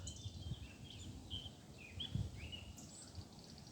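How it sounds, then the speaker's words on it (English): Birds chirp and whistle in short, scattered calls outdoors, moderately distant, over a soft background hiss. "As you can hear when I shut up,"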